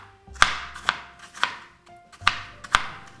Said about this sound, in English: And you just finely chop the apple as well.